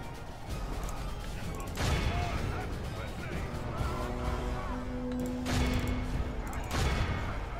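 Battle din from troops shooting in a Total War game, with crackling volleys and surging bursts of noise over a constant rumble, plus a sustained tone partway through.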